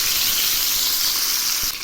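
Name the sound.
bata fish frying in oil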